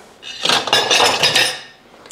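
A spoon scrapes beef juices off a plate into a bowl, giving a run of close, loud scraping and clinking strokes against the crockery with no talking.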